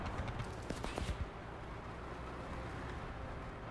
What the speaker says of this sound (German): Ich glaube, es war aber ein Schuss.